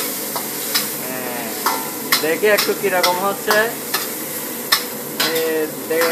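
Chicken karahi being stirred in a pan, repeated scraping strokes over a gentle sizzle, close and fairly loud, while people talk over it.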